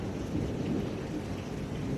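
A thunderstorm with steady rain and a low rumble of thunder runs throughout, fairly even in loudness, with no talking over it.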